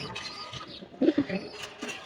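Soft, low cooing of a young pigeon about 21 days old, a few short murmuring notes in the middle, close by against faint background hiss.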